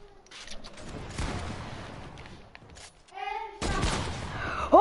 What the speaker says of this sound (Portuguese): O capitão vai levar um tiro na cabeça.